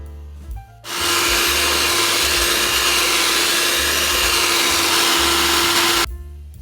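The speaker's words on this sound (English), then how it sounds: "I'm going to mix it with a hand mixer." Electric hand mixer beating cupcake batter made with vegetable oil: a loud steady motor whine with a constant hum that runs for about five seconds, with a brief clatter before and after.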